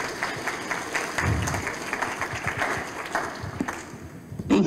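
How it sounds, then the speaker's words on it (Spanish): Audience applause for an engineer introduced as a speaker at a presentation event on waste material reuse, a steady patter of clapping from a moderate crowd that thins, then swells again near the end. "Damos un fuerte aplauso, por favor,"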